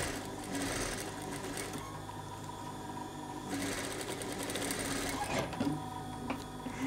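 A sewing machine runs continuously while stitching a bound armhole seam with a 1 cm seam allowance, its steady mechanical whir close and even, with faint handling noises and slight tempo changes.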